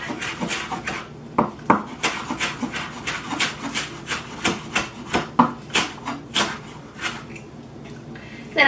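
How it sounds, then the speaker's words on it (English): A knife rapidly chops a rolled-up bunch of cilantro for guacamole on a wooden board, giving a steady run of crisp, close thuds, about two per second, that pauses briefly near the end. "we're going to chop up our cilantro"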